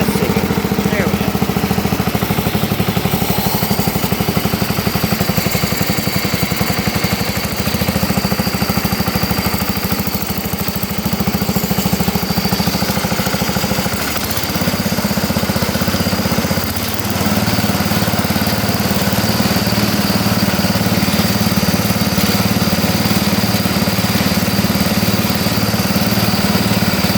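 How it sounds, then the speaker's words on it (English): Old Sears SS12 lawn tractor with a roughly forty-year-old engine running steadily, a loud, close, continuous mechanical drone with a rough idling rhythm and no pauses. "Don't run half bad for a 40-some-year-old motor"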